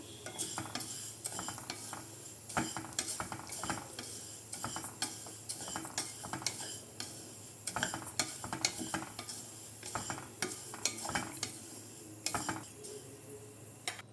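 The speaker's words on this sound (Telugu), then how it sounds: "దీన్ని దోరగా గోల్డెన్ బ్రౌన్ కలర్ వచ్చే వరకు మనం ఫ్రై చేసుకోవాలి." Moong dal is dry-roasted in a pan for payasam, with repeated close spatula scrapes and clinks against the metal and a faint, dry sizzle underneath, and no voices.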